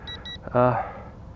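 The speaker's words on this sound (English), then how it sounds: "now it's beeping" Two quick pairs of high electronic beeps from a radio transmitter for an Eachine EX1 drone, followed by a brief buzzy tonal burst, close and clear.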